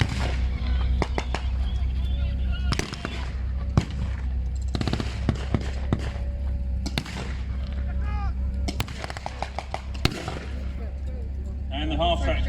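Explosive blasts and gunfire crack repeatedly across a late WW2 battle reenactment, where a bazooka hits a half-track; loud booms and sharp reports pile up over a constant rumble of vehicles and crowd.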